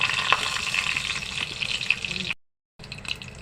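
Steady crackling sizzle of curry leaves added to hot oil after mustard seeds have popped, loud and close, with a brief silent gap near the end before the sizzling resumes.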